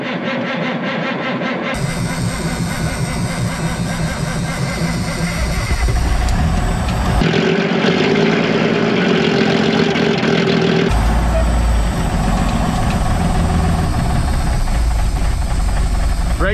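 Diesel truck engine cold starting at -22F, a loud close cranking and rough knocking idle that roars up with throttle, steady and unbroken with hissing overlaid.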